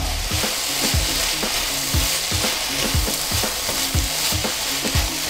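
Chicken fajita mix sizzling hard in a hot pan, stirred with regular scraping strokes roughly every second over a loud, steady fry, close and without talk.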